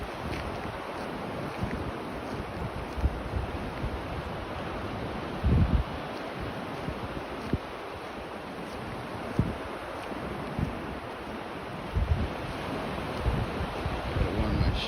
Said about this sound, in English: it looks like the waves are just a little too rough